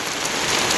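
Heavy rain from a storm in Laos pours down in a loud, dense, steady hiss, close and unbroken for a brief moment.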